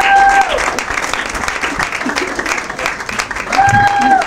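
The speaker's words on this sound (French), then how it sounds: "applaudissez comme il se doit" An audience at an evening awards ceremony honouring Congolese actors applauds steadily throughout, and brief tonal sounds are heard at the start and end.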